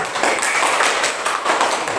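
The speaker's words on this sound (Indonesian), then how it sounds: "Berikan tepuk tangan dulu" Students of class 8A applaud in their classroom, a dense, steady patter of many hands clapping close by for about two seconds with no talk over it.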